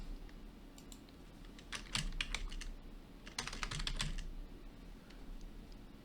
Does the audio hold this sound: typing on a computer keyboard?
yes